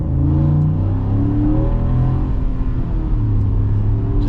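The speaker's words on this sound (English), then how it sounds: "We got that nice V8 making some good sounds." A 2026 Ford F-150 Lobo V8 pulls away at about half throttle, its engine rumbling loud and steady throughout with a rising, revving drone and no talk.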